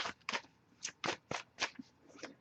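Tarot cards shuffled by hand, a series of about eight quick, crisp riffling bursts, close and fairly quiet with short pauses between them.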